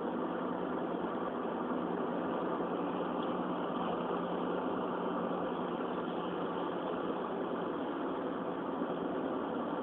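Steady engine drone and road rumble inside a car travelling the federal M-53 highway toward Angarsk, with poor sound insulation, a constant muffled hum with no talking.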